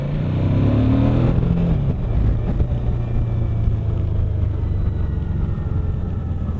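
Suzuki V-Strom 1050XT large-capacity V-twin motorcycle engine at riding speed, a steady close-up drone with a harmonic rise in the first seconds before settling into an even cruising hum.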